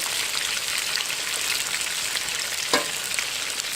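Meat and chicken frying in a pot for jungli pulao, a steady dense sizzle with crackling bubbles, and a brief stir or clink near the end, with no voices.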